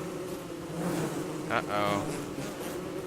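A swarm of bees spawning in the video game Don't Starve makes a buzzing, droning hum that swells briefly mid-clip over steady background game noise. A voice makes a short exclamation partway through.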